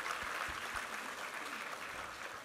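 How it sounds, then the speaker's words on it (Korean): A church congregation at a Sunday service gives a round of applause, steady dense clapping that sounds faint and distant and holds throughout. "우리 하나님께 감사와 영광의 박수 올려드리겠습니다"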